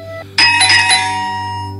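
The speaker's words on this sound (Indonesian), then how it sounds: "aku dengar bel pintu kantorku berbunyi." An office doorbell gives a single bright ding-dong chime that rings out loudly and fades slowly over a low steady hum, with no voices.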